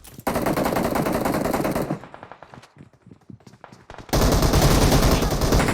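Dense, loud machine-gun fire from a video game rattles continuously, drops to a brief lull of scattered shots, then resumes at full intensity, with no talking over it.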